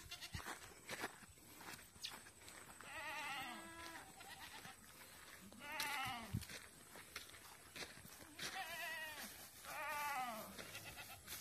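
Several goats bleat in turn, loud wavering cries coming every couple of seconds from close by, with faint shuffling and rustling between calls.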